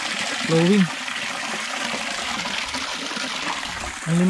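Cold mountain stream at Uraya's Peak, Talaingod, Davao del Norte, with a steady broadband rush of flowing water close by and brief voices breaking in near the start and end.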